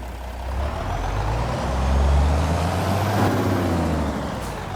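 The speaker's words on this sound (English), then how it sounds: "Love the sound of this truck." A heavy truck engine in a video game, Farming Simulator 22, drones steadily and loud, swelling in the middle with a rough, rattling jake brake roar, no voices.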